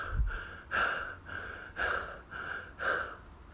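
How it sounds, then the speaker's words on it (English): Heavy, rhythmic panting after a fight, about six loud breaths in steady succession, close and alone. "He is standing there, panting."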